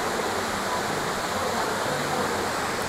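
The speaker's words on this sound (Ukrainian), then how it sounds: "Як виглядає водопад?" Maniava waterfall in the Carpathian mountains, with the river running shallow, makes a steady, dense rush of falling water that fills the whole stretch evenly and continuously, with no pauses.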